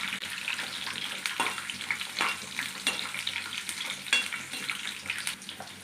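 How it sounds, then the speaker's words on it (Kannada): Spices sizzle in hot oil with ginger and garlic, giving a close, crackling frying sound with irregular bursts and stirring scrapes throughout. "ಈ ಮಸಾಲೆ ಎಲ್ಲ ಎಣ್ಣೆಯಲ್ಲಿ ಹುರ್ಕೋಬೇಕು"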